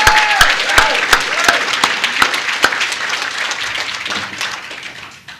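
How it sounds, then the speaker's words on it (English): Audience applause at a 50th class reunion, steady crowd clapping with several sharp, louder individual claps standing out near the front, gradually fading over a few seconds. "So I want to give a big hand of applause to Darrell."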